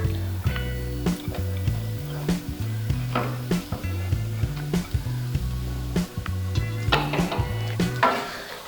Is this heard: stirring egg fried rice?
yes